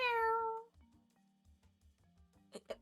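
A house cat lets out one loud, close meow, followed by quiet thumps and soft shuffling noises nearby.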